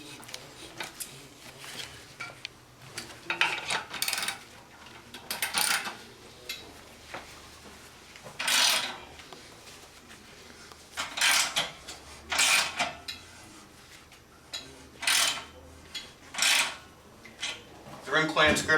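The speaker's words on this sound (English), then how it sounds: "I press the edge of the rim into the valley of the rim clamps, compressing them down." A dirt bike wheel rim is pressed into the plastic rim clamps of a No-Mar tire changer, giving repeated scraping, creaking and rubbing bursts with clanks, close and moderately loud, spread at irregular intervals.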